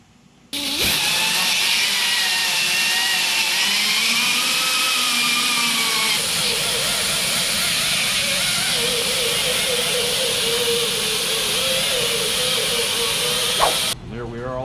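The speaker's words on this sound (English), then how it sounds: "now we're basically just going to grind off all of this excess glue" A power grinder strips excess glue from a car roof during rust repair, a loud steady high-pitched whir that starts abruptly, runs continuously with slight pitch wavering, then cuts off near the end.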